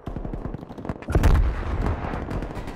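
Rapid gunfire in the shooter game Black Ops Cold War during a competitive match: a quick string of close shots, then a louder, denser burst of several heavy reports that trails off into lingering shots and echoes.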